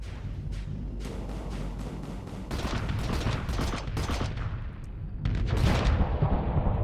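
Rapid automatic weapon fire from a Starsector spaceship intercepting incoming missiles, a dense rattling barrage of overlapping shots with booming impacts, growing louder and heavier toward the end.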